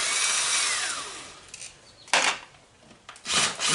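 A power tool zips bolts out of the base of a lawnmower being scrapped, using a 3/8 socket. Short whirring bursts come up close at intervals, with scraping and handling noise between them and no talk.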